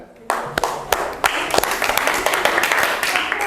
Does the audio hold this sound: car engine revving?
no